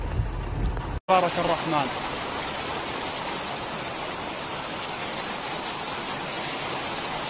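Rain falls at night in Saudi Arabia, a steady loud hiss of downpour and runoff that cuts out briefly near the start and then continues unbroken, with someone speaking softly over it.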